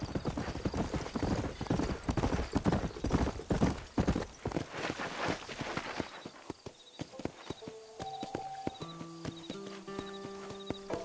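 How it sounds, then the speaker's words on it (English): Horses' hooves clip-clop in a steady, busy rhythm in Red Dead Redemption, loud and close at first, then thinning to sparser steps under ambient game tones, with a brief neigh; no talk. "You ain't gonna find sturdier horses than these in all of New Ulster."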